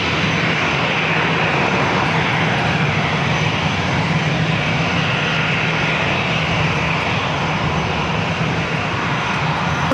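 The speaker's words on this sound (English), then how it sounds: "this is an Alice Air 747-400 freighter that left LAX. Going to be landing in North Island here shortly" Boeing 747-400 freighter on approach to San Diego airport, its engines a steady, loud broadband roar that fills the whole stretch without a break and with no voices.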